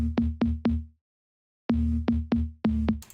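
Sampled slap bass from a downloaded sample pack, three punchy plucked notes, a pause, then four more, each with a sharp percussive attack and quick decay, loud and alone.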